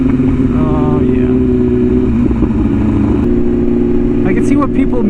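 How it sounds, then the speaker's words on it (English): A BMW S1000RR sport motorcycle being ridden, its engine a steady, loud, continuous drone with faint shifts in pitch as it changes speed, heard up close from the rider's position. "if you've like ridden any bike, you could pretty much hop on the S1K and feel comfortable"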